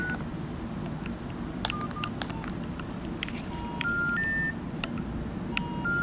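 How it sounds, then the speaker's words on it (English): Cellphone DTMF dialing tones, a series of short separate beeps at varied pitches spread across the stretch, sounding over a steady low background hum with no talk. "So let's dial back."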